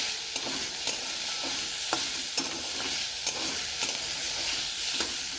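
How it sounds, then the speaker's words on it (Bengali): Leafy greens (shak) frying in a pan, with a constant close hiss of oil and regular scraping stirs of a spatula repeating roughly every half second. "এভাবেই ভাজতে হবে"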